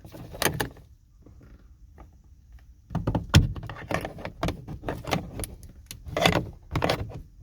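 A plastic trim tool pries at a Hyundai or Kia interior door panel, giving scattered clicks, a solid thunk and rattling snaps as clips shift, close by with quieter pauses between.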